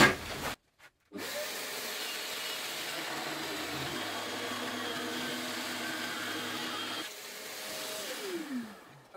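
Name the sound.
Peugeot 18V cordless jigsaw cutting wood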